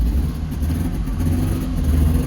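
A two-stroke car engine running steadily in first gear as it pulls away, a close, loud, buzzy drone with a slight rise in revs and no talking.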